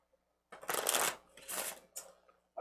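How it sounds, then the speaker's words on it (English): Munchkin playing cards are shuffled close up in two crisp, rapid riffling bursts, followed by a shorter flick of cards, with quiet pauses in between. "While we shuffle,"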